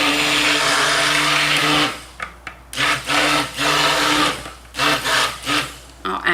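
A stick blender whirs continuously through cold process soap batter for a black tide soap, then switches to short on-off pulses while bringing it to emulsion, loud and close.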